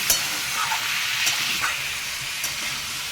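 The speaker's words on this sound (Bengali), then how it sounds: "এবার সবজিগুলোকে ভালো করে নাড়তে থাকবো কিছুক্ষণ কিছুক্ষণ ধরে এটা ভাজা হবে" Chopped vegetables are stirred and fried in a pan for a red amaranth stalk curry, giving a steady hissing sizzle with a few scraping stir sounds, moderately close and without talk.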